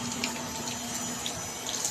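Water pouring steadily from a solar-powered pump at an irrigation site, a constant close splashing rush with no pauses and no voices.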